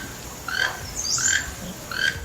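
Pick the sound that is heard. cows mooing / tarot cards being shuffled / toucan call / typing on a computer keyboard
toucan call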